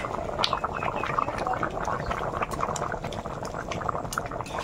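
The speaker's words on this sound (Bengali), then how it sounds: "আলু দুটো একটা ফাইন সিদ্ধ এসছে, তা কাঠের জালে ফুটছে যা টকবক করে" Potatoes boiling hard in a pot over a wood fire, a steady close bubbling and gurgling that runs without a break through the whole stretch, with no voices.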